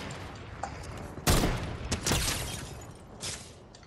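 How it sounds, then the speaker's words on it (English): Gunfire rings out in the video game Fortnite, a loud burst of broadband shots, then further cracks and a trailing volley that fades toward the end, with no talk over it. "Where are we getting shot at?"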